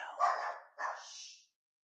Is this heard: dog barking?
yes